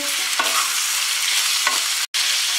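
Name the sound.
stirring potatoes frying in a pan with cumin, turmeric and salt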